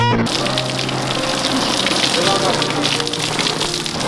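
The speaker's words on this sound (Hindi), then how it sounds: "बारिश का मौसम ना होते हुए भी बारिश हो रही है" Steady, dense rain hisses continuously with no pauses, filling the whole moment like a heavy downpour nearby.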